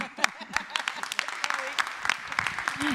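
Audience applause at a community meeting in Paris, a burst of many hands clapping in an indoor hall with a voice speaking over it.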